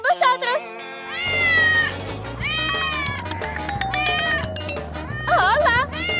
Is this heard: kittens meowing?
yes